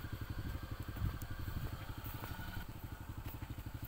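A motorcycle engine runs close by with a rapid, even pulsing putter, a steady idle-like chug with light clatter and crackle, moderately quiet and unbroken, no talk over it.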